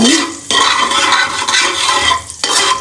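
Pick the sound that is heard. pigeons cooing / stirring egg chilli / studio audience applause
stirring egg chilli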